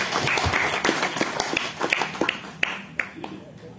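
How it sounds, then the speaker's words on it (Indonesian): Scattered hand claps and applause from an audience at an interfaith dialogue evening in Kampung Sawah, with individual claps popping out irregularly over a low murmur of voices. "Kita ini tepuk tangan dulu buat Pak Yakob."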